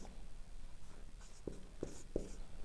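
Writing on a board during a physics lesson, a few close scratchy strokes over steady low room noise, three sharper taps in the second half.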